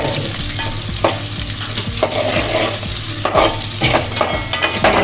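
Oil sizzles steadily as onions and chillies fry, with a spoon scraping and stirring the pan every second or so, close and fairly loud, no talking.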